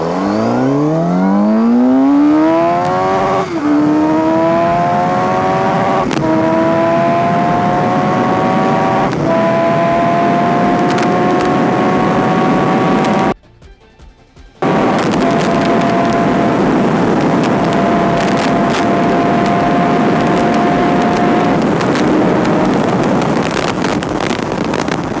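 Suzuki GSX-S 750 superbike accelerating hard in first gear, its engine note climbing steeply and repeatedly through sharp rising revs, loud and close with wind rush, briefly cutting out before pulling on at high revs.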